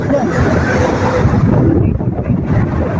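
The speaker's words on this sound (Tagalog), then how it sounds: "sobrang hangin eh" Strong wind at a hotel buffets the microphone in a constant, loud roar with rumbling gusts throughout.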